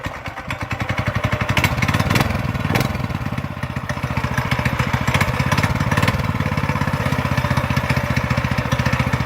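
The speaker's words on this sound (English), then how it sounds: "before you change the oil, you need to warm up your engine. Turn it on." A small mini bike engine runs steadily at idle while warming up ahead of an oil change, its rapid even putter close and loud throughout with no talk.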